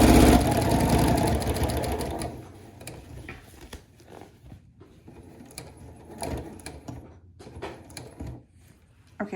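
A sewing machine stitches a cardigan blazer, its steady mechanical whir running loud and continuous before easing into slower, intermittent runs of stitching with short pauses.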